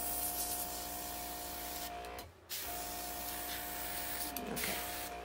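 OPAWZ airbrush spraying grooming color during creative dog grooming, a continuous close hiss that cuts out briefly midway and then resumes steadily.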